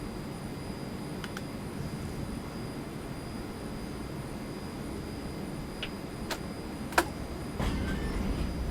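A tram in the TramSim Vienna video game sits with a steady low rumble and hum under faint high whine, with a few brief clicks and a sharp tap near the end and no talking.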